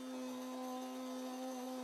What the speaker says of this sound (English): in this clip I'm using a drum sander in the flexible drive to reprofile the end of the connecting rod